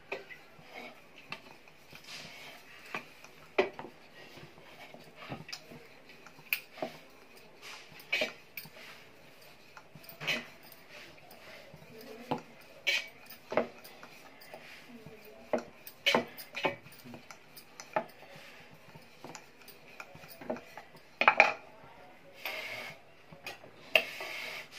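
Stuffed puran poli dough, dusted with flour, being rolled out on a board: faint, scattered taps and knocks of the rolling pin come at an irregular pace over a quiet kitchen background.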